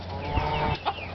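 Young gamecocks held in a pen at a cockfighting ring, a couple of short clucks and chirps close by over a low background murmur, brief and with no talking.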